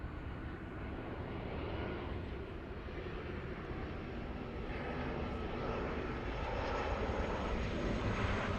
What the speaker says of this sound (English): We have a 737 crossing right now the 405 freeway, so it's landing in a few seconds